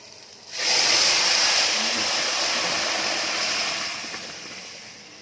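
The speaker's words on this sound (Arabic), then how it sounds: "ننزل بقى بالعدس بتاعنا" Dry lentils poured into a cooking pot for lentil soup, a steady rushing, rattling hiss that starts abruptly, holds for several seconds and tapers off slightly at the end.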